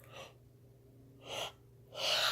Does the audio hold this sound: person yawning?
yes